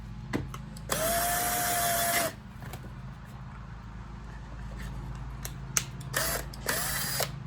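A power drill punches a hole straight through material while a Gurney easel is being built, whirring in a steady close burst of over a second, then short repeated drill bursts after a quiet pause.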